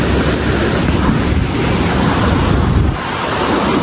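Water pours in a loud, unbroken roar through two open gates of the Koshi Barrage in Nepal, a dense close-up rush with wind noise over it and no voices.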